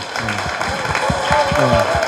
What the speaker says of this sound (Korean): SBS 탐사 보도팀에 대해서 좀 같이 박수를 한번 좀 보내주시면 어떨까.